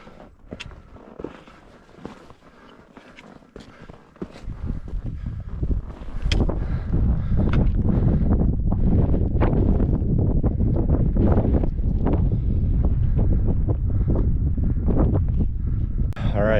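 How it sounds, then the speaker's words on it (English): Strong wind on the summit of Mount Flume in the White Mountains, New Hampshire, buffets the microphone with a loud, steady roar that builds after a quieter start with light rustling and footsteps. "It is starting to get windy."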